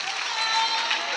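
A church congregation claps hands in praise during worship, a dense, steady patter of many hands held at an even level for the whole moment.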